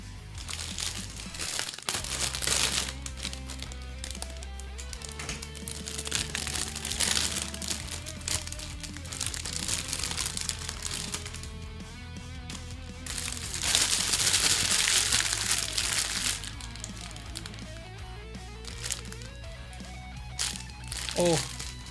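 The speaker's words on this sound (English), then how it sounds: "I was hoping my mic wouldn't pick up the sound of crumpling plastic" Plastic packaging being crumpled and torn open up close, with loud crinkling bursts recurring across the stretch while a person talks intermittently.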